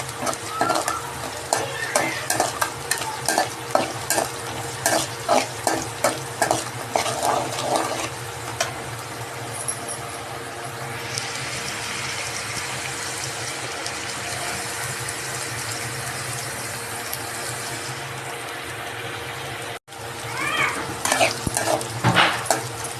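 Onions sautéing with a little salt in a pan for a fish curry, stirred with quick repeated scrapes over a steady sizzle; the stirring later gives way to a continuous hiss of frying before the scraping returns.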